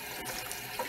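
Tap water running steadily into a sink as neckbones are rinsed, a brief soft splashing flow heard close and alone.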